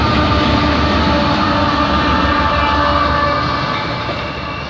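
A CP/CN freight train with a DPU locomotive rolls past at Foley, Ontario, a loud, steady rumble of wagons with a faint horn tone that fades slightly at the end.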